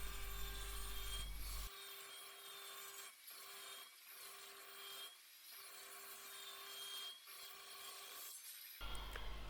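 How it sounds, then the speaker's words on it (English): Table saw blade lowered to about 3–4 mm cutting shallow decorative grooves into wooden stretchers, a steady loud whine and rasp broken by several brief dips between passes, with no talking. "I just lower the blade to the height of 3 to 4 millimeter and do the cuts."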